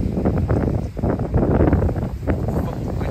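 Strong wind gusting outdoors at a house in Spring Valley Lake, a loud, steady rumble of buffeting across the microphone with brief lulls, while people talk over it.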